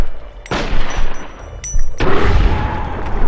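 Gunfire in slowed bullet time in Fallout 3, two heavy booming shots about a second and a half apart, each followed by a long, dragged-out rumbling tail, loud and close with no talk.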